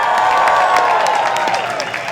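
Students at an engineering career talk cheer and applaud, a loud, dense burst of clapping mixed with crowd shouts and whoops that fades slightly at the end.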